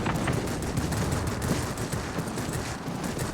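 Aircraft guns rattle in World of Warplanes in a dense, continuous burst of rapid fire, loud and unbroken throughout with no voices.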